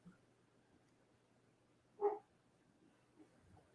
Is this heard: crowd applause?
no